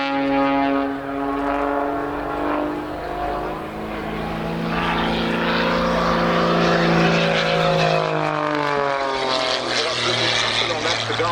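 An aerobatic propeller plane flies a loop at an airshow, its engine drone loud and near with a strongly shifting pitch as it climbs and dives, while a commentator talks throughout.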